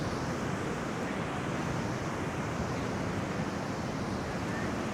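Ocean waves roar steadily on a beach where Portuguese man-o'-war and cabbage head jellyfish have washed up, a continuous broadband wash of surf with wind noise and no distinct breaks, constant and moderately loud throughout.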